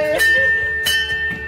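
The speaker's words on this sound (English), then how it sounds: "The sound of a bell has never sounded so good." A bell rung to celebrate a cancer patient being declared cancer-free, struck three times in quick succession, each strike leaving a bright, sustained ring that overlaps the next.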